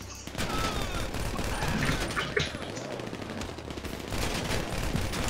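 Gunfire in GTA V during a heist, with a house under attack: dense, continuous bursts of shots crackle throughout, loud and steady, with little pause between volleys.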